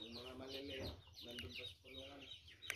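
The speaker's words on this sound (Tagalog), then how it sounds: "Yan, may sisiw na nababa ni Junjun" Chicks and chickens cluck in a coop with repeated soft clucks and peeps, close and fairly clear, with a brief sharp chirp near the end.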